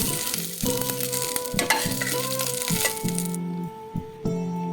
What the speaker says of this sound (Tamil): கருவேப்பில வந்து பச்சை வாசனை போகிற வரைக்கும் நம்ம ஒரு ரெண்டு மூணு நிமிஷம் நம்ம வந்து தொடர்ந்து வதக்கினாலே போதும்